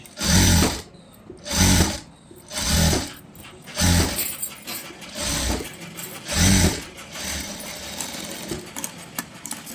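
A computerized sewing machine stitches one-side piping onto a blouse neckline, running in about six loud bursts roughly a second apart with short pauses between, then a quieter steady hum to the end.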